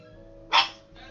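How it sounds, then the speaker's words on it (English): A single dog bark bursts out briefly over a low, steady indoor background hum, with no voices at that moment. "Sorry about my dog."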